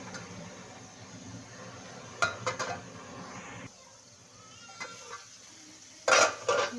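Metal pot of chana dal and spinach being covered, with two quick clusters of lid clatter, the second louder and sharper, over a low kitchen hum and brief scraping in between.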